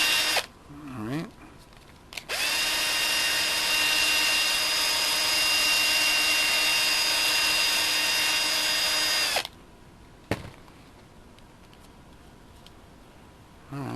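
A power drill runs during a rebuild of a Schumacher CAT 3000 RC car, whining steadily at high pitch for about seven seconds close to the mic, with quieter workshop handling noises before and after.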